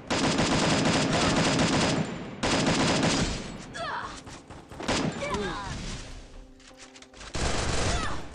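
Rapid gunfire from the Free Fire video game, dense automatic bursts in the first seconds and again at the end, with quieter stretches between where someone talks.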